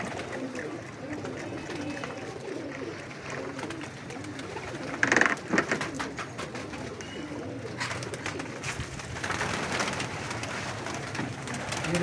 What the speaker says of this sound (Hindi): ये देखिए कैसे कैसे कबूतर हैं